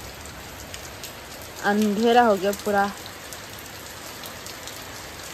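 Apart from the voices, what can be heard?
rain falling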